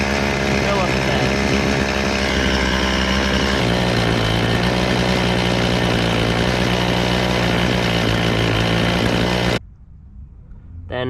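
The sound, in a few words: small engine idling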